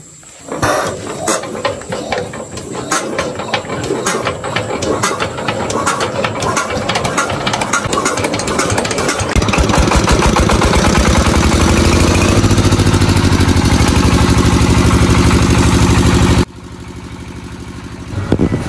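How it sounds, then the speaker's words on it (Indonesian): A diesel engine on a chopper machine cranks with rapid ratcheting clatter, then catches and settles into a loud, steady chugging run close by, dropping to a lower idle near the end. "cara pengoperasian mesin diesel atau mesin pencaca. Dan saat ini telah nyala"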